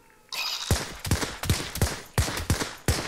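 Gunfire rings out in a steady series of loud, evenly spaced shots, each with a sharp crack and a short echo, in the survival horror video game Hell is Others.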